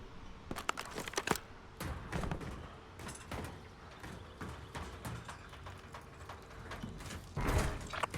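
A Kilo 141 magazine reload in Call of Duty Warzone battle royale brings a run of close mechanical clicks and clacks, with metallic ratcheting and thumps at an uneven rhythm, fairly quiet overall.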